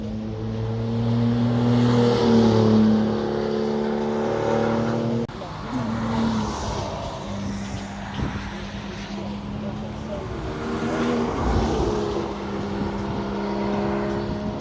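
Porsche flat-six sports cars rev hard and roar past at the Lohéac circuit, with loud sustained engine tones rising and falling as they go by, then a short dip before more cars pass, all close.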